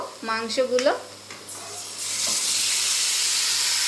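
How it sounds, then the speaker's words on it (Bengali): A brief voice-like tone, then duck meat hits the pan with fried onions and a loud, steady hiss of sizzling fills the rest. "মাংসগুলোকে খুব ভালোভাবে কষিয়ে নেব।"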